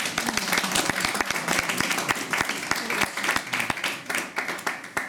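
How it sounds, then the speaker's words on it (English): Audience applause at a Battle of Britain commemorative speech, sustained crowd clapping with many crisp individual claps, steady and moderately loud throughout. "Let's give them a round of applause."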